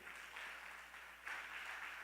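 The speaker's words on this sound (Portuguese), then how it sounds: "Vamos aplaudir." Congregation in a church service applauding, a steady wash of clapping from many hands that swells slightly toward the end, moderately distant.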